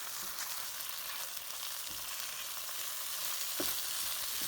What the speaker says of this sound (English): Then you cook it until the eggs are over easy, still nice and moist, a little runny